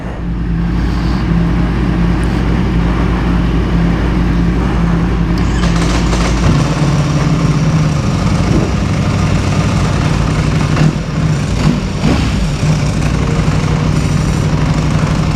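A Ducati Panigale V4 R sitting at idle on a track day, producing a loud, steady engine drone with the loose metallic rattle of its dry clutch running through it.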